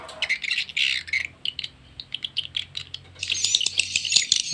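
A swiftlet call recording from a lure-sound track plays rapid, sharp high chirps and twittering squawks in irregular bursts, with a denser, louder stretch toward the end.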